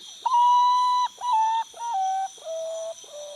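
A common potoo, a nocturnal camouflaged bird, gives a series of five mournful whistled notes, each slightly lower and shorter than the last, clear and fairly close with no talk.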